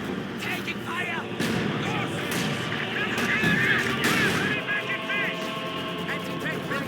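Battlefield gunfire in Company of Heroes 2: dense, overlapping rifle and heavy weapon bursts crackle steadily through all seven seconds, with distant booms and voices mixed into the din.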